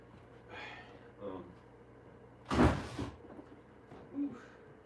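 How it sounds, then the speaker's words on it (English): A door opening, a single sharp rattling burst of the latch and swing, close by, framed by quieter handling noises before and after. "I'm gonna open up the door."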